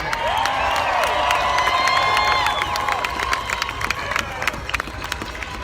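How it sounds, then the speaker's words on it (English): Crowd at an outdoor rally supporting farmers cheers, whistles and claps in a loud, sustained burst, with scattered shouts over the dense clapping. "Let's give them a round of applause"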